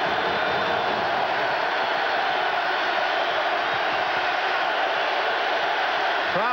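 A roaring stadium crowd at a 1990 NFL football game between the Broncos and the Bills, a dense, sustained wall of cheering noise heard at a distance, with a broadcast voice talking faintly underneath.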